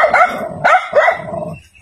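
A large dog, still on its leash, barks repeatedly at close range, with three loud bursts of barking separated by short pauses and a faint whimper trailing off at the end.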